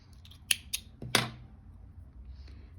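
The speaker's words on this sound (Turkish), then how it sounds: "bir sabitleme zinciri çekip ipimi kesiyorum" Scissors snipping brown crochet yarn give a few sharp, close clicks in quick succession, then a faint rustle in an otherwise quiet room.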